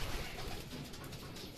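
Racing pigeons arriving at a loft after a 105 km training flight from Lupao, Nueva Ecija, with soft cooing and wing sounds over a rough, breezy outdoor background, fairly faint.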